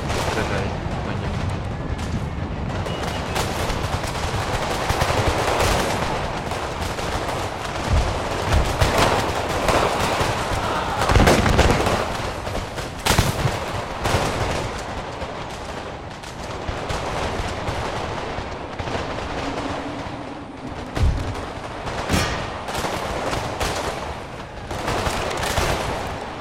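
Gunfire at troops in Empire: Total War with the Savoia mod: dense, continuous musket and cannon fire with booming bursts, heavy and loud throughout, with voices talking over the battle.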